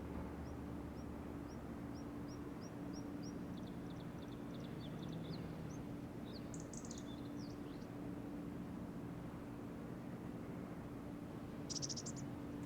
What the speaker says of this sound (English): I'm assuming that is a bug that I'm hearing outside.